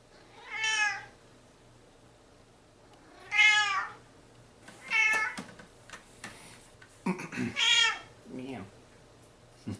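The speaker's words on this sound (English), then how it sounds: "Meow." A cat meows several times up close, with the calls spaced a few seconds apart and a shorter, chirpier cry near the end.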